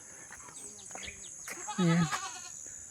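Goats kept on a mountain farm give one loud, close bleat in the middle, with people talking quietly around it.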